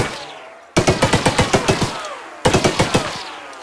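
A gun shooting at targets in the video game Choo Choo Charles fires two loud rapid bursts of evenly spaced shots, about nine and then four, with brief ringing decay between them.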